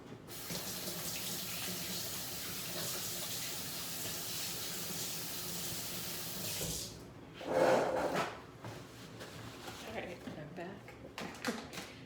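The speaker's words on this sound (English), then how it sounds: "I'm going to need to wet my hands a little more." A kitchen tap runs steadily for several seconds while hands are wet during sourdough shaping, then shuts off, leaving brief handling noises and a faint voice.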